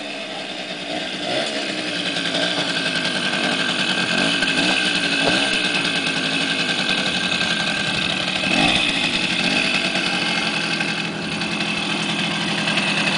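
A Mini Riga moped engine runs steadily nearby with a buzzing, rattly two-stroke tone, holding a high, fairly constant pitch with small rises throughout.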